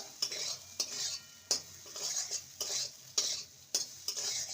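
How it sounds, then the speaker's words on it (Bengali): A spoon stirring soya pulao in a pan over low sizzling, with rhythmic scraping strokes about every half second, close and distinct, and no talking. "ভালো করে নেড়ে নেব এবার"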